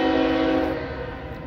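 BNSF northbound stack train sounding its horn in Fremont, Nebraska: a brief, close, sustained chord that fades slightly toward the end over low rumbling.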